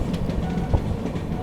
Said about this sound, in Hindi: ट्रेन अपनी जो है श्री माता वैष्णो देवी कटरा रेलवे स्टेशन पहुंच रही है